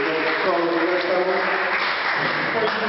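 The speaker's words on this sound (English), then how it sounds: "let's give our panel another round of applause" A panel discussion audience applauds the panel, a dense, steady round of clapping with voices mixed in, moderately loud throughout.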